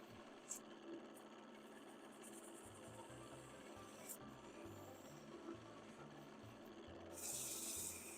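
Direct sander working wood spinning on a lathe, producing a continuous low rubbing whir with pulsing texture, fairly faint, swelling briefly near the end.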